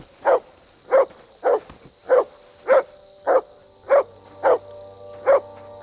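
A dog in Kingdom Come Deliverance II barks about ten times in an even, regular rhythm, each short bark close and clear with a slight whimpering edge, and no voices over it.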